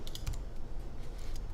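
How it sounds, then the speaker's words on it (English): Computer keyboard keys are pressed in a quick cluster of soft, close clicks during a 3D modeling session, heard alone against quiet room tone. "If I hit C and make this object editable on the keyboard"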